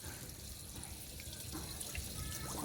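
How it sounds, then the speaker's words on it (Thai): Small water pump running in a homemade egg hatching tank, water swirling and trickling softly and steadily, faint and close, with no voices. "ปั๊มทำงานแล้วพี่น้อง เสียงปั๊มทำงานแล้ว"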